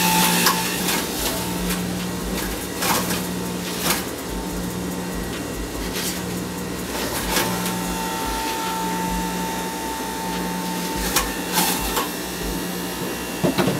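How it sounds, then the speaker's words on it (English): A motorized juicer grinds spinach leaves with a steady, loud whirring drone and tonal hum, broken by brief crunchy bursts as leaves are fed in. "Juicing is really a simple process. We get our spinach in."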